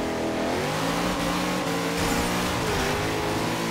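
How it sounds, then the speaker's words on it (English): Car in a drifting video game floored uphill with tires spinning, a steady droning engine rev with shifting pitch, continuous and close throughout, with no gaps. "I'm just spinning the tires,"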